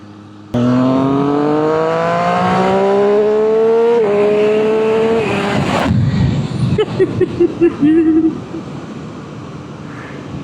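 A Triumph Street Triple 765RS motorcycle rasping through its aftermarket exhaust can: a loud, close engine note climbing steadily through the revs, a shift, then a burst of popping crackles on the overrun before it fades.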